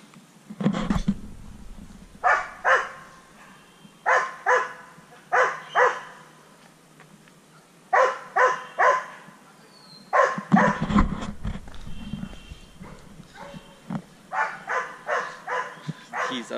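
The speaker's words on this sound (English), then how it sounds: "the Dalmatian's barking." A Dalmatian barks outdoors on a morning walk in Yercaud, letting out repeated short clusters of two or three sharp barks at a moderate distance, with brief pauses between the bursts.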